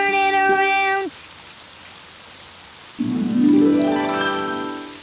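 A cartoon rain sound effect makes a steady soft hiss of falling rain outside, heard alone in the middle and under sustained musical or sung tones before and after.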